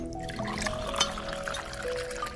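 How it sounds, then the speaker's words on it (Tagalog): Water is poured steadily into a container in a home kitchen setting, a continuous close trickle lasting a couple of seconds with faint background clatter and no talk over it. "Lalagyan ko ng tubig."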